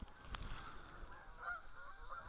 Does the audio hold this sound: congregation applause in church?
no